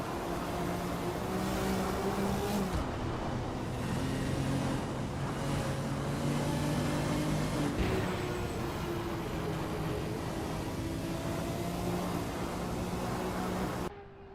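A race car in a Le Mans racing game drives through the Porsche Curves, its engine droning steadily with rising and falling pitch as it shifts through the bends, cutting off abruptly at the end.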